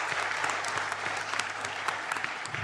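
Audience applause fills a hall at a medical conference, a steady, fairly distant clapping of many hands with no voices over it.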